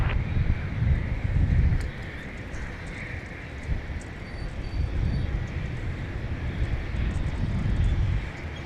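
Jet airplane at Dallas Love Field, a broad roaring engine rumble that swells, dips and builds again as it passes, with faint wind over the top.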